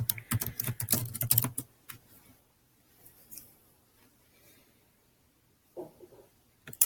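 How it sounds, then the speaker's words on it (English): Someone types Harry Potter into a library catalog search on a computer keyboard: a quick, close burst of clicking keystrokes, then near silence with a faint click or two later. "So we'll just type in Harry Potter."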